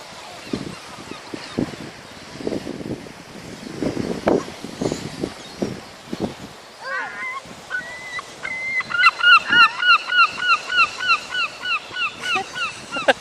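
A seagull near the shore gives a run of loud, repeated rhythmic cries after a stretch of scattered shuffling and brief noises, heard fairly close over faint background sound.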